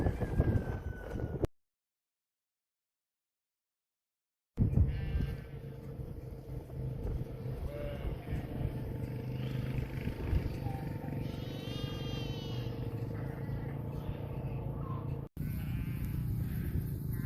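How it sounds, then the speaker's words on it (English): A flock of about 500 ewes bleating at a home-built handling facility, many overlapping calls in varied pitches over a steady background hum, broken by a gap of silence early on, with a voice talking briefly. "you get 500 ewes pushing on a wire panel gate, things can happen"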